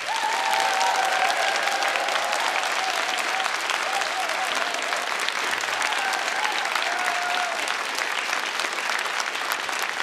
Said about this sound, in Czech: Jestli budete takhle tleskat, tak si toho moc neřekneme do těch 12, jo?